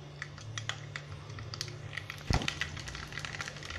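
Mustard seeds splutter in hot oil for a Chettinad fish kulambu, giving rapid scattered pops and crackles over a low steady hum, close and fairly loud.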